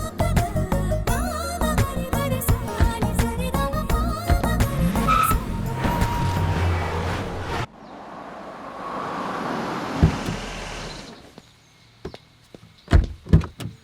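An Audi Q5 car moves past with engine and tyre noise, first mixed with dense music, then a rushing roll that fades into quieter background with a few sharp thumps near the end.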